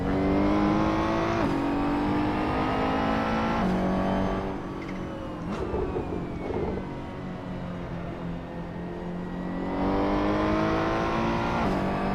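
A GT3 race car engine roars loud and close in a racing video game, holding a steady high-pitched drone. Its pitch rises and falls through gear changes and shifts in throttle, with a short dip in the middle before it climbs again.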